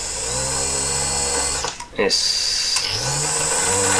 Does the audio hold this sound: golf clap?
no